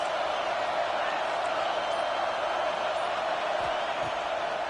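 Stadium crowd in a college football video game, a broad continuous roar that stays steady and fairly loud, with no distinct cheers or voices rising out of it.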